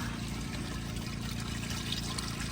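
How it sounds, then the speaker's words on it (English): Water pouring steadily out of a laundry tub or basin as it drains during outdoor hand-washing in the woods, a continuous splashing gush that holds an even level throughout, with no talk over it. "the water is gonna definitely pour out"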